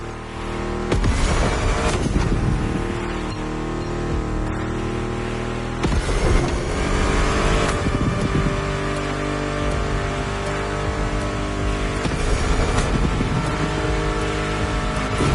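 Car engines rev in the racing game The Crew Motorfest, a continuous loud drone with surges and shifts around the 1, 6 and 13 second marks, blended with music and wind-like rush, no talking.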